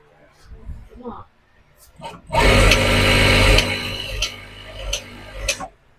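A sewing machine runs a second line of stitching over fabric backing, a loud, steady mechanical whir for about three seconds that then tapers off, with people talking briefly before and around it.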